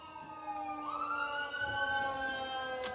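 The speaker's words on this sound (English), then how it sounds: "Take those sirens as confirmation, y'all." Emergency vehicle sirens wail with a rising, sweeping tone that grows slightly louder, heard from a moderate distance with no talking over them.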